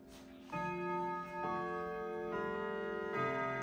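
Floor-standing clock chiming a melody, a sequence of sustained, ringing bell tones struck one after another at a stately pace, each overlapping the last, clear and close with no talking.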